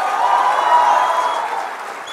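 Audience applause welcoming Tamil Nadu BJP President K. Annamalai to the podium at a public event, a steady dense wash of clapping that holds throughout and eases slightly toward the end.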